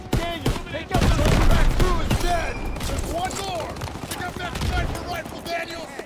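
Rapid gunfire rattles through a Call of Duty: WWII battle during Operation Cobra, dense bursts of rifle and machine-gun shots with ringing ricochets, loud and close, while a player talks over the action.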